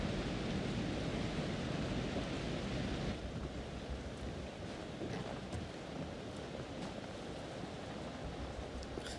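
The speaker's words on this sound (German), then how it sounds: "Also ist schön gemacht mit dem Wasserfall." Steady broadband rushing of a waterfall in the horror video game Until Dawn, a continuous dense roar that eases slightly partway through and carries on evenly without pause.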